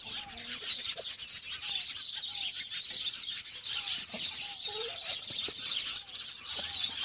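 Several chickens clucking close by, short repeated calls over a steady bright chirping of other birds in the background.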